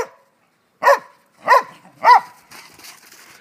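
A corgi barks outdoors in a blizzard: three sharp, evenly spaced barks up close, followed by a soft wash of background noise.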